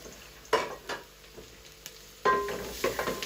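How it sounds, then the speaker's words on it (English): Stewed red cabbage with carrots, ginger and garlic stirred in a pot, a few scraping, clattering stir strokes over a soft sizzle, with a louder burst of stirring near the end. "Give that a good stir"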